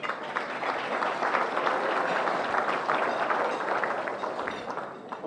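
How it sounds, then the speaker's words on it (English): Audience at a junior football and netball league presentation night applauds award winners, a sustained, even wash of clapping from a crowded room, moderately distant and continuing throughout. "A round of applause."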